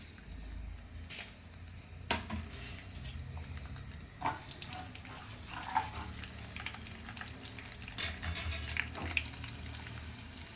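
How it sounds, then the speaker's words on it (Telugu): Chana dal, urad dal, mustard seeds and cumin fry quietly in oil over a low flame, giving a soft, steady sizzle with occasional faint clicks and stirring taps and no voices. "ఇవి కూడా మంచిగా సన్న మంట మీద ఎర్రగా వేయాలన్నమాట పప్పులు"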